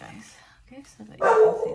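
A dog barks during a home shopping-haul recording, one loud close bark rising after a few softer yips, while someone talks over it.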